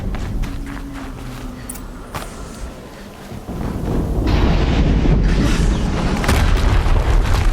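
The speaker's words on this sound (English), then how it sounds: "Another explosion." Explosion in Horizon Zero Dawn: a deep rumbling blast swells up midway, then settles into a loud, sustained crackling roar, following scattered lighter impacts and thuds at the start.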